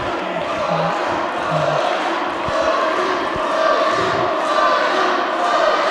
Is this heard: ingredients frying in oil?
no